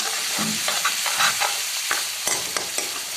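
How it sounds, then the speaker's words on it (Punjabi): Red chili powder is stirred into sizzling moong dal in a pan, giving a continuous hiss of frying broken by repeated spoon scrapes and clicks, with no talking. "ਚੰਗੀ ਤਰ੍ਹਾਂ ਮਿਕਸ ਕਰਾਂਗੇ ਜੀ"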